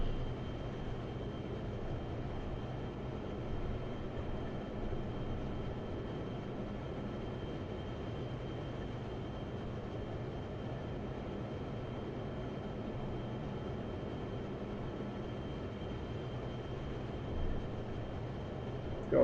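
Steady jet engine roar of a MiG-21 in the DCS flight simulator, climbing at military power while carrying a heavy bomb load; a continuous, even drone with no talk, holding at a moderate level throughout.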